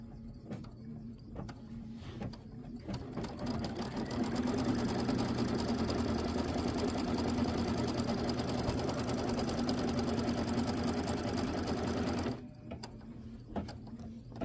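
An embroidery sewing machine runs a placement stitch on a quilt block, a steady close mechanical whir with rapid needle chatter that holds for about eight seconds before stopping, with quiet handling sounds around it.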